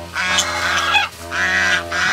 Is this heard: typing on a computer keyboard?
no